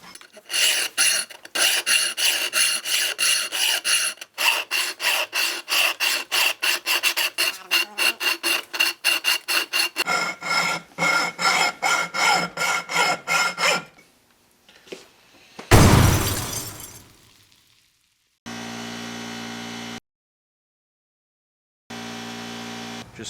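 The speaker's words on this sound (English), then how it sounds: "Just cut a little notch in this just so that we can still tighten it on there with a screwdriver." A go-kart clutch part gets notched: fast rhythmic rasping cuts in a long run, then shorter bursts, a brief loud scrape and two spells of steady mechanical hum with silent gaps.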